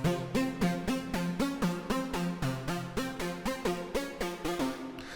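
An ambient synth preset for melodic techno plays a repeating pattern of evenly spaced, sustained notes, loud and alone, with no voices.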